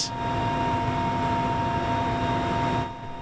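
Steady, loud drone of an aircraft engine heard from inside the cockpit during flight with a military minister aboard, continuous and unbroken for about three seconds before easing off at the end.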